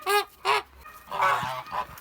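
A young family of Kholmogory geese honks close by, two loud nasal honks in quick succession followed by a longer, lower run of honking calls with no talking.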